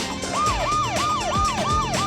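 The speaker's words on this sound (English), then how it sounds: "The police car's siren blared." A police car siren wailing in a rapid, rising-and-falling yelp pattern that repeats about every third of a second, loud and close, with faint traffic noise beneath.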